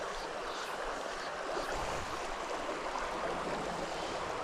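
Rapids on a mountain creek pour into a deep hole, a constant broadband rushing wash of water, close and steady with no pauses.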